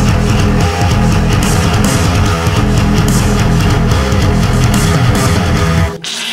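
A full metal track mix, with heavy distorted guitars, bass and pounding drums, plays loud and dense in a steady driving rhythm before cutting off sharply.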